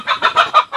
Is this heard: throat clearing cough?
no